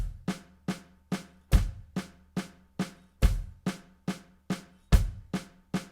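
Soft doubles played as a drum practice exercise: a steady stream of quiet, crisp strokes, about two per second in paired bounces, with a few accented hits standing out, close and alone without talk.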